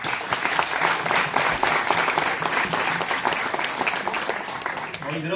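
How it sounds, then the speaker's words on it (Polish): Crowd of football supporters in Głogów applauding together, loud rhythmic dense clapping with some cheering, continuous from start to finish. "Wielkie brawa dla Was!"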